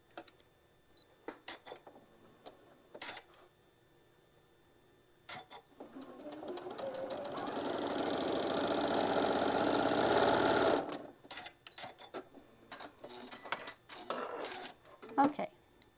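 A sewing machine runs a steady whirring burst of several seconds as quilt block pieces are stitched together, framed by short clicks and handling noises before and after.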